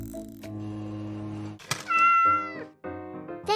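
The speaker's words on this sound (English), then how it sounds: "You are a good cat." A cat meows repeatedly near and clear, drawn-out tonal cries rising and wavering, with a soft thunk between calls in an otherwise quiet room.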